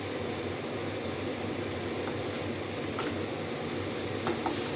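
Tomatoes fry in a pan with a steady, low sizzle and a faint background hum. A few light stirring scrapes sound at a moderate distance, with no voices.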